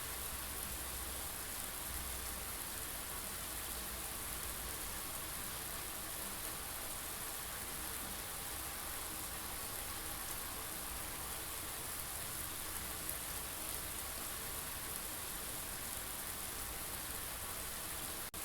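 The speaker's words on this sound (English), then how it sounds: "Now how come it's raining in here?" Steady rain patters indoors inside a room in the puzzle game Blue Prince, a constant even hiss of falling drops with no change in loudness, heard alone without any talk.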